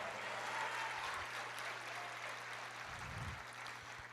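A church congregation applauds in a broad, steady wash of clapping that carries on for several seconds at moderate distance, with a low hum beneath it.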